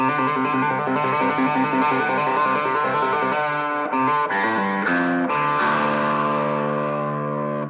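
A distorted electric guitar rings out a sustained, loud riff with effects, using the open low E, notes sliding and changing near the end.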